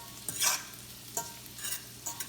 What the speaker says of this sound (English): we're just going to put these onions down so they get a little translucent